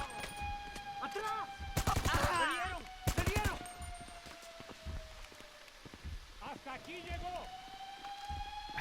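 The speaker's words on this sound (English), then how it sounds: "Who's shooting me now? I'm wasting ammo." Bursts of gunfire in GTA V during the Cayo Perico heist finale, with dense rattling volleys and sharp single shots, loud and close, mixed with game music and someone talking over the action.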